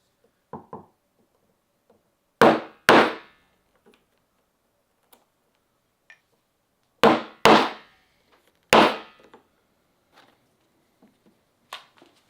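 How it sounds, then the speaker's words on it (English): Strap end punch, 3/4 inch, struck to round leather strap edges for a satchel: loud, sharp double mallet blows in three separate pairs, with small taps between and otherwise quiet. "now I'm using a 3/4 inch strap end punch to round my edges"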